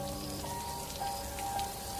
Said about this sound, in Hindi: तभी अचानक एकदम से बारिश शुरू हो जाती है।